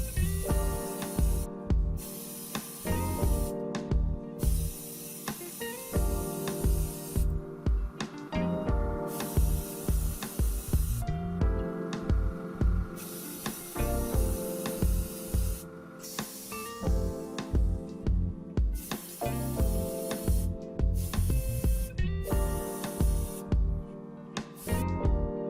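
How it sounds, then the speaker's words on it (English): Repeated hissing bursts of spray paint applying a transparent coat onto a model tank, in a steady rhythm, close and fairly loud, with a continuous musical background underneath. "Now we are applying a second coat of paint, but this time we are spraying a transparent layer"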